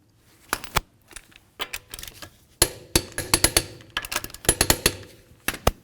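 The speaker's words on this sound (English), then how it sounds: "we'll continue on to torquing the lug nuts in a crisscross manner" Lug nuts on a 2007-2017 Jeep Compass front wheel being tightened with a torque wrench in a crisscross pattern, giving a run of sharp metallic clicks and taps in uneven bursts, close and clear with no talk.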